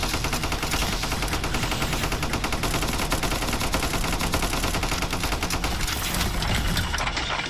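Machine guns in the video game Cavalry Girls fire in a continuous, loud, rapid rattle of overlapping shots that barely lets up for the whole stretch.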